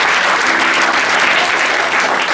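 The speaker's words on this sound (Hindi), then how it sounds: "ताली बजाएंगे परमेश्वर की महिमा की।" A church congregation claps together in loud, dense, continuous applause that fills the hall without pause.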